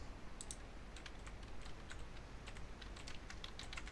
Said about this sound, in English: Is my keyboard not working at all?